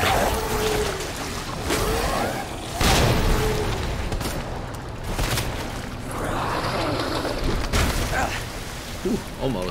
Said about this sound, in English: You know what? You can have a grenade.